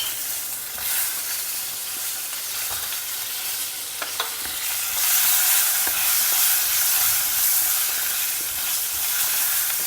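Sambar onions and drumsticks sautéing in oil, a steady close sizzle that grows louder and hissier partway through, with occasional faint stirring taps and no talk.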